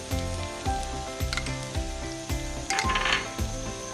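Mushrooms fry in butter with cream being stirred in for a butter mushroom fry: a steady close sizzle broken by repeated spoon scrapes and light metallic clinks against the pan, with no talking.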